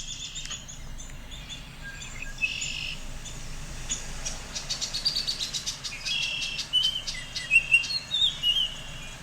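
A Baltimore oriole sings outdoors in spring near an apartment in Turnbull Woods, its clear whistled phrases repeating and growing louder toward the end, with other bird chirps and insect buzz in the background.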